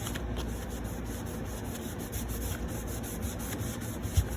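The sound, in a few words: rubbing paint off with a baby wipe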